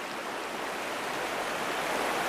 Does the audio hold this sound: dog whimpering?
no